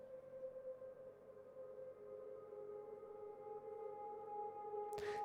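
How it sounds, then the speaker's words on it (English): Saturated ambient pad washed in Valhalla Supermassive reverb for a trap beat: a steady droning tonal wash with sustained layered tones, quiet and smeared, ending in a brief noisy burst. "Valhalla Supermassive. And it sounds like this"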